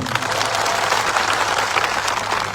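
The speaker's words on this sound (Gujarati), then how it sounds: "બધા માટે એકવાર જોરદાર તાળીઓ પાડી લઈએ આપણે" A crowd at a Gujarat political rally bursts into dense, sustained applause, loud and even for the whole moment with no voices standing out.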